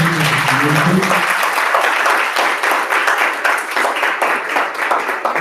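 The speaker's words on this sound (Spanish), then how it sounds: "vamos a darle un último aplauso" An audience at an academic presentation gives a final round of applause: close, sustained clapping throughout that eases slightly near the end.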